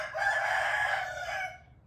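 A young Burmese fighting cock crows once, a loud, close, drawn-out call that rises and holds before trailing off, with no talking over it.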